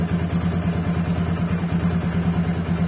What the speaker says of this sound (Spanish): Vamos a acelerar un poco la moto.